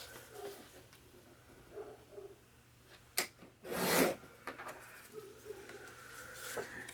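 A craft tool cutting close to the mic: soft rubbing and light taps, then a louder rasping stroke in the middle, followed by small scratches in a quiet room.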